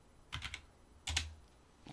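Two short bursts of keystrokes typed on a computer keyboard, quiet and close, with brief silences between them.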